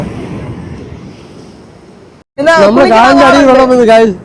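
Ocean waves wash steadily onto a beach in Trivandrum for a couple of seconds, then a person talks loudly over the surf.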